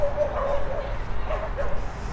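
Dogs at a dog park in Korea, heard as a few yips and barks rising over a loud, steady outdoor rumble, fairly distant and partly buried in the background noise.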